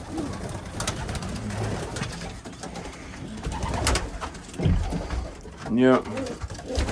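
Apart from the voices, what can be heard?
pigeons cooing and flying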